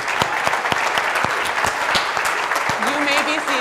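Audience applause at a school dance showcase of Motown routines, dense steady clapping from a large crowd, loud and close, with voices mixing in and a brief tonal whistle or cheer near the end.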